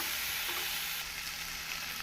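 Chopped eggplant sizzles steadily in hot oil with turmeric and chilli powder for a kuzhambu curry, a continuous close frying hiss with no talk over it.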